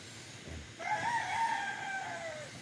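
A single rooster crows once in a long, drawn-out call over a steady background hiss, moderately distant.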